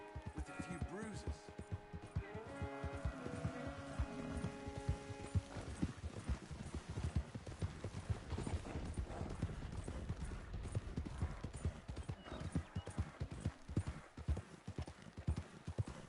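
Horse hooves gallop in Red Dead Redemption 2, a rapid, continuous clip-clop close up, with a brief whinny and talk over the hoofbeats early on.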